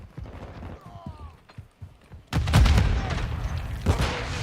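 Frag grenade exploding during a Call of Duty Modern Warfare II hardpoint match: a loud, close, heavy blast hits after scattered quieter gunfire and radio chatter, then lingers as rumbling debris with further shots.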